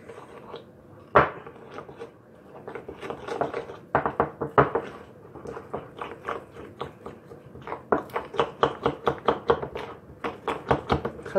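A utensil mixes a thick icing sugar glaze with lemon juice for a lemon cake in a bowl, giving rapid, close clinking taps and scrapes in uneven bursts that speed up toward the end.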